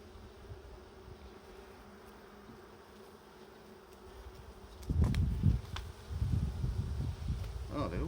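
Honey bees humming in an open hive during a brood inspection, a faint steady drone at first that swells into a louder, closer buzzing with rustling movement in the second half.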